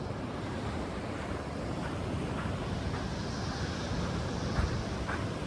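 Ocean waves on the Oregon coast roll in a continuous broadband roar with wind buffeting the microphone. A slight swell builds toward the end.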